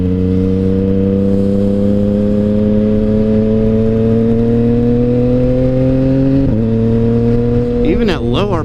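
A motorcycle with a quick shifter accelerates at open throttle, its loud engine tone climbing steadily, then dropping briefly at a clean upshift before pulling on; close and continuous.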